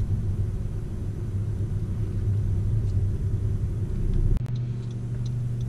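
Car engine rumbling steadily while driving slowly through a crowded Costco parking lot, a constant low drone with a brief bump near the end, no talking.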